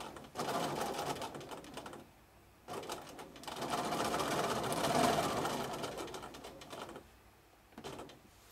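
A sewing machine free-motion quilts spirals with short stop-and-start runs, bursts of fast close needle chatter and motor whir broken by brief pauses.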